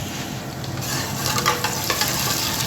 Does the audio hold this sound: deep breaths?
no